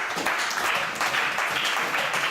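A church congregation applauding to acclaim the Lord: steady, dense clapping from many hands filling the room, continuous and fairly loud throughout.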